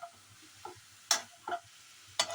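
Carrots for carrot halwa are stirred in a pan: a few sharp, separate scrapes and clicks against quiet background, close by and without speech.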